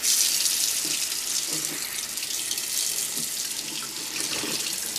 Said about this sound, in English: We're going to put the material under cold water.